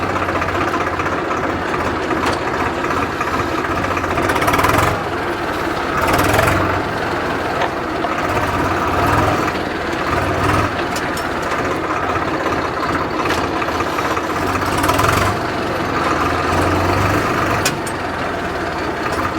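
Tractor diesel engine, a Mahindra 275 DI or Swaraj 735 FE, chugging steadily while driven in first gear, loud and close with a low knocking throb and slight swells in revs, no talking.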